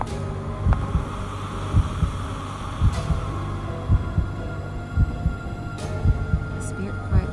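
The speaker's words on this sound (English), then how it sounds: "I stick the charm song into the tape player and press the play button" A charm song played on a tape player in the horror video game Death Mark: a low, steady, heartbeat-like thumping pulse under a droning hum, loud and continuous, with faint higher tones drifting above.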